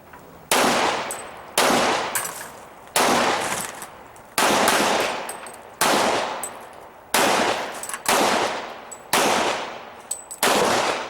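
Loud pistol gunshots at an IDPA shooting match at Mecklenburg Wildlife Club, a shooter firing about nine sharp reports in quick pairs and triples with brief gaps, each crack ringing out into a short decaying tail, no talk.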